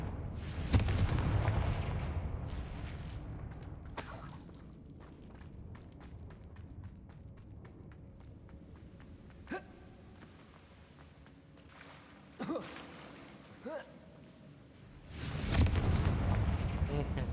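Booming fiery blasts from the Confringo spell in the game Hogwarts Legacy, a loud burst at the start and another near the end, with sharper impacts and quieter rumbles in between at moderate distance.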